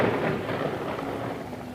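Steady, dense rain with a low thunder rumble rolling underneath, continuous and fairly loud throughout.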